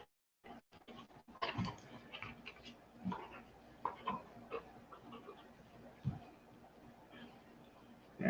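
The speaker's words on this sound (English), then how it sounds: "this dog likes playing" A pet dog named Monty plays close by, giving snuffling grunts, snorts and panting huffs in irregular bursts over a low room background.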